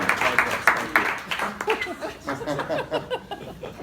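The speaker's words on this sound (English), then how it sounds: "let's give some applause." A small audience claps briefly and somewhat sparsely to welcome a speaker at a startup event, with a few sharp claps standing out before voices take over.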